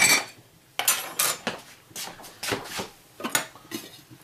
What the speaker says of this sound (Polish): A to garnek jeszcze dla pieska.